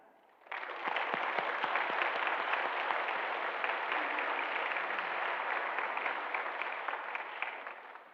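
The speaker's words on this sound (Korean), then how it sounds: "인사하실 때 박수로 환영해 주시기 바랍니다." A church congregation applauds during a Sunday service to welcome a visiting missionary who serves in the Philippines, with steady, dense clapping that starts abruptly, holds for about seven seconds and tapers off near the end.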